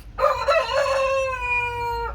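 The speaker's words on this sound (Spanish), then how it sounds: "Hasta tienen animalitos, miren, hay patos, hay gallinas." A rooster crows once among chickens and ducks in rural Joyabaj, Quiché, Guatemala, a loud drawn-out cry close by, rising then holding steady before cutting off, with faint background hum.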